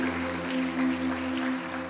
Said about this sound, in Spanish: Damos fuerte esa ofrenda de palmas a nuestro Dios